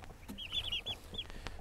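Hybrid Converter turkey poults, two and a half weeks old, give a run of high chirping peeps under a brooder lamp, several short calls in quick succession, moderately faint.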